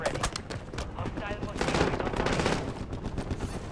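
Gunfire from a tower in a Warzone match: quick automatic bursts rattling at mid distance, with a voice talking over the shooting.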